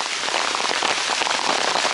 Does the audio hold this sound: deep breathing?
no